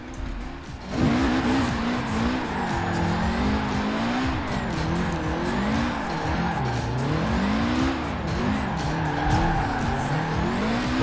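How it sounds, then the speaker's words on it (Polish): Forza Horizon 4 car drifting around a large circle, tires squealing in a long wavering screech over a steady engine drone, loud and close throughout. "pójdziemy sobie pojeździć, podriftować troszeczkę po okręgu"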